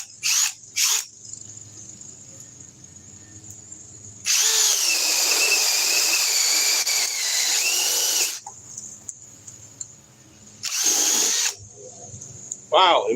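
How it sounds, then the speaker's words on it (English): A Metabo 18-volt cordless drill with a T-cell attachment whirs in bursts: two brief blips, then a long four-second run of loud, strained drilling and a shorter later burst, with quieter pauses between the runs. "let's see what the Metabo 18-volt can do with the T-cell"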